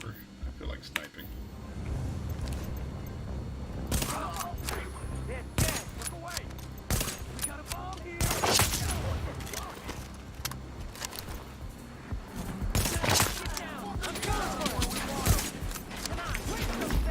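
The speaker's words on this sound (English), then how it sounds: "Switch to my sniper. I feel like sniping." Sniper rifle gunfire in a video game: repeated sharp cracks and bursts at irregular intervals over a continuous background of game noise and mechanical clatter, with a player talking throughout.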